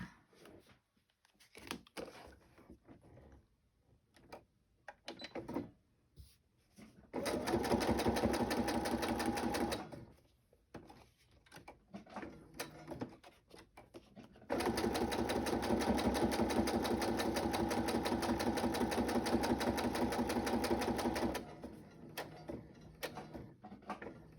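Sewing machine stitching shabby chic paper tags: two long bursts of fast steady mechanical whirring, about three and seven seconds each, separated and surrounded by quieter handling clicks and rustles.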